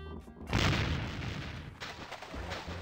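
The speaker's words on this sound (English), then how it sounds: "it's one of those new self-loading cannons I've heard so much about" A single deep boom from a self-loading cannon in The Curse of Monkey Island bursts out and rumbles away, followed by a lighter second blast amid game background noise.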